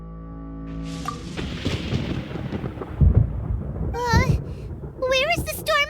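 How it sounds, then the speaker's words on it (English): Rumbling thunder from a storm in the Genshin Impact video game, low booms rolling beneath game music and character voices, with a louder crack midway. "Paimon hears thunder!"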